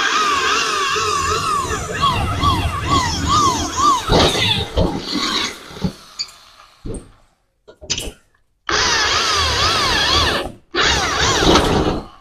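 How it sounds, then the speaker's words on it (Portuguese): A power drill bores screw holes for a lock in a steel door, with the holes already centre-punched. A close, whining drill runs in bursts that rise and fall under strain, then stops and restarts. "como eu já poncei, então a broca não vai escorregar"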